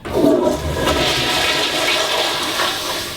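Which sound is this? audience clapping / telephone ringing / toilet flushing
toilet flushing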